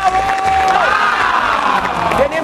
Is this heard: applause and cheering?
yes